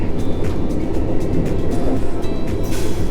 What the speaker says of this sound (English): I will talk to you once more about this train